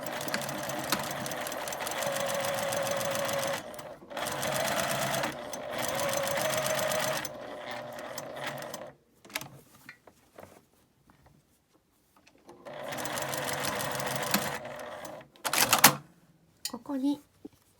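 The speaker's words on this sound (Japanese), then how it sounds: "この四角をミシンで縫います。" A sewing machine stitches a square to hold a zipper pocket on a tote bag, running in several steady bursts of rapid whirring broken by pauses, with handling noises in the gaps.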